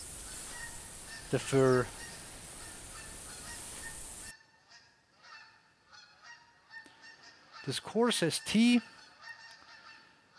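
Geese in the hunting game theHunter Classic let out repeated loud nasal honks in a few short bursts, one group early and a denser cluster later, with someone talking briefly between them.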